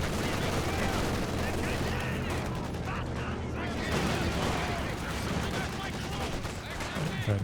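A DShK heavy machine gun trades fire with an MG42 in the video game Company of Heroes 2, producing dense continuous automatic gunfire with overlapping rattling bursts and low rumbling battle noise throughout.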